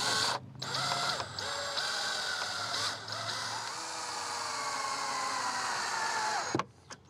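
A power drill drives a standard 2-inch countersunk wood screw into pine for a bench, giving a steady, close motor whine that rises in pitch for several seconds before stopping abruptly.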